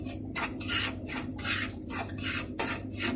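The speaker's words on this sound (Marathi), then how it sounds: "मी आता रवा फुलवून घेते, जरा भाजून घेते 5 ते 6 मिनटं मंद आचेवर" Medium semolina dry-roasting in a pan over a low flame while being stirred, heard as a rhythmic series of close scraping, rasping strokes about every half second with no talking.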